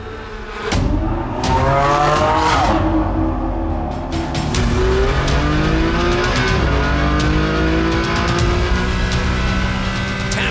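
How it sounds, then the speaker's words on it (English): A race car in a six-hour season-finale endurance race accelerates hard up a steep incline toward turn 1, its engine roaring loud and close, rising through revs with a brief shift and a faint tire squeal. "Foust accelerates up a massive incline toward turn 1"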